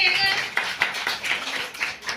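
Children at a village fair-style gathering clap their hands in a quick, uneven patter close by, with voices chattering faintly underneath.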